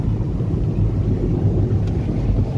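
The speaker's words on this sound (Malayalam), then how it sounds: "നല്ല കാറ്റുണ്ട് ഇവിടെ." Strong wind roars across the microphone outdoors on a cold, rainy day around Darjeeling, a constant low buffeting rumble that stays loud and unbroken throughout.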